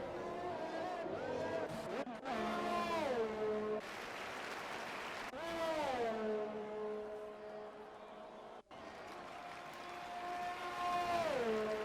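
Formula 1 cars in an F1 video game at the Mexico round, engines whining in sweeping harmonic tones that rise and fall as they pass. The sound carries steadily throughout, with brief cuts, and a commentator talks over it.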